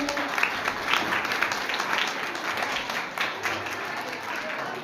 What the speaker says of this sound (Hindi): एक बार सब तालियां बजाएं महाराज श्री के लिए।